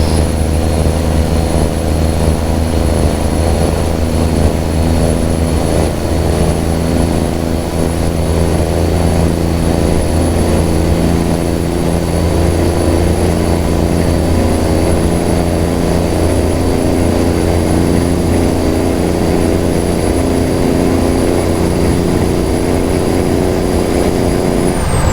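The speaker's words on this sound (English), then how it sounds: "when you hit a bump, it kind of changes the tone of the engine just a little bit" A truck engine drones steadily while cruising down the road, a loud, constant low rumble with a faint high whine on top, unbroken for the whole stretch with no voices.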